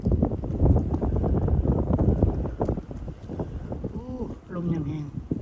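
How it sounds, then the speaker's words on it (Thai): Strong wind blows outdoors in Brooklyn Park, Minnesota, buffeting the microphone as a loud, rough, low rumble that fades later, while someone speaks over it. "มีลมแรงหน่อยนึง"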